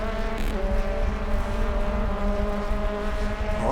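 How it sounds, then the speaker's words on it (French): Touring car in a BTCC race at Paul Ricard, engine droning steadily and loud with sustained harmonic tones as it brakes very late into a corner, no pauses across the run. "encore le même freinage, hein. C'est un peu des copier-coller, mais voilà, je freine super tard"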